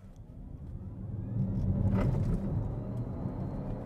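Jaguar I-Pace electric car launching from 0 to 100 km/h: a low, steady rumble and whir build in intensity as the car accelerates, peaking mid-run before holding steady, heard from inside the cabin.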